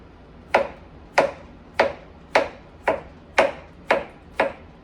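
A knife chopping zucchini on a cutting board, eight crisp, evenly spaced thuds at a steady rhythm, close and clear with no talk.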